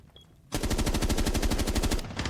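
Automatic gunfire in Rainbow Six Siege rattles off in a single rapid, sustained burst that starts abruptly after a short quiet lead-in and stays loud and close for about two seconds.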